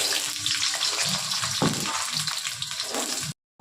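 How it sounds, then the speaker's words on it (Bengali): Meat and potatoes fry in a pan, a close, loud sizzle with bursts of spitting that cuts off abruptly at the end. "এবার মাংস আলুটা সুন্দর করে ভেজে নিই।"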